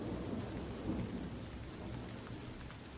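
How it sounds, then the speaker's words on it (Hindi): Heavy rain pours down in a dense, even hiss while deep thunder rumbles low underneath, a continuous storm wash with no voices. "बाहर तेज बारिश हो रही थी। आसमान में काले बादल गरज रहे थे"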